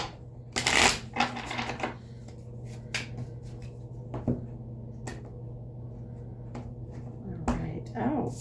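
Tarot cards shuffled by hand, a burst of riffling crackle followed by scattered sharp snaps and flicks over a steady low room hum, with a voice speaking at moments.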